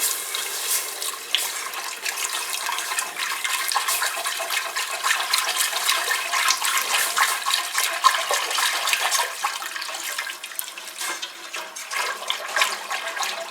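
Water is poured into roasted flour in a pot for a Turkish soup and stirred quickly, a steady close rushing, splashing wash that runs throughout with no speech.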